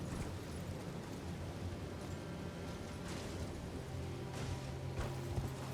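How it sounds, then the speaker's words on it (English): Rain falls steadily in the Elden Ring Shadow of the Erdtree game world, a soft continuous hiss with faint scattered patters and a low rumbling bed, even throughout with no talk. "we get here and it's raining."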